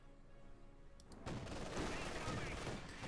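Dense bursts of machine gun fire in a Company of Heroes 2 battle, starting faint and swelling into a loud, continuous crackling barrage with heavier impacts mixed in. A quiet voice can be heard underneath.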